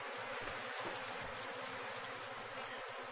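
Honey bees buzz around a hive entrance in a faint, continuous drone without pauses.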